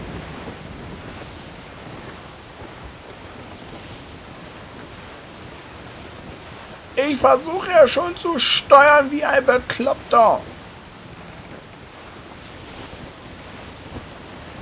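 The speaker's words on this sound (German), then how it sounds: "Wasserhose! Eine Wasserhose?" Stormy open sea in Assassin's Creed IV Black Flag, with a waterspout nearby, produces a constant loud rush of waves and wind; someone speaks over it briefly in the middle.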